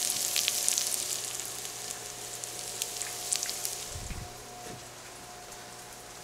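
Vegetables sizzling as they brown at the bottom of a soup pot, a steady close hiss of frying with a few soft knocks, no talking.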